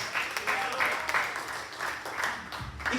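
Church congregation clapping during a Spanish-language sermon, a short burst of moderate applause that rises and fades.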